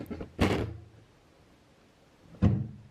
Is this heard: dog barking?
no